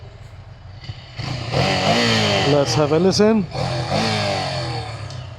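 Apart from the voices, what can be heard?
Ducati Scrambler 800 motorcycle engine running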